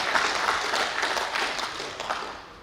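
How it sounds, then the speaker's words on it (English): An audience at a brand launch event in Bengaluru claps in appreciation, a moderate wash of many hands that stays even and gradually tapers toward the end. "I want a big round of applause for this"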